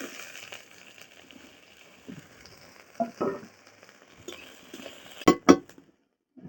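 Onion and whole garlic fry in hot oil in a pan with a steady soft sizzle, broken by a few stirring clatters and sharp scrapes of a spoon against the metal near the end.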